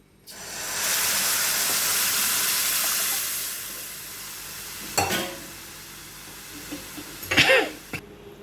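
Amti, a Maharashtrian curry made with the strained lentil stock, comes to a boil in a pot with a broad steady steamy hiss. Later come a few sharp knocks and a brief cough-like burst.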